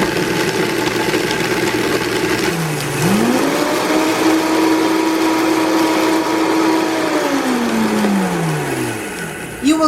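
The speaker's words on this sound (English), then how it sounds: "I used my Vitamix blender." A Vitamix blender pulverizing dried jalapeño peppers runs loud and steady, its motor pitch sweeping up as it spins to full speed, holding there, then winding back down near the end.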